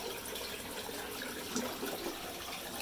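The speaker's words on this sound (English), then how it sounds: "the overflow draining like a champ" Water drains steadily through the overflow of a 240-gallon aquarium, a continuous close rushing trickle with small gurgles and no voices.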